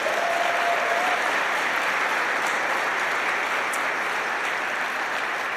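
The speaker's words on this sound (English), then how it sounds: "Give them all a round of applause." A crowd gives a loud, sustained round of applause at a State of the City address, an even wash of clapping with no talk over it.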